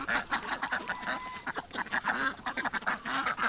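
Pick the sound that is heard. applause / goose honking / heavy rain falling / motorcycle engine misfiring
goose honking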